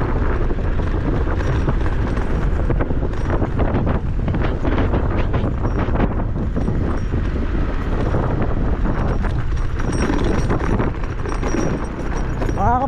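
Strong wind buffets the microphone at an open riceland property. The roar is continuous and loud across the whole stretch, with no pause in the gusting.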